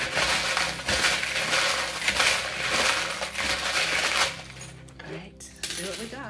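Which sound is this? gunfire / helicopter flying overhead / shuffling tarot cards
shuffling tarot cards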